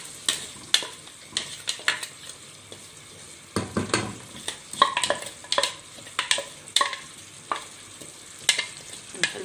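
Chopped onion sizzling and frying in ghee with a little oil for basmati rice, a steady crackling sizzle broken by repeated stirring scrapes of a spoon against the pan, close and fairly loud, with no talking.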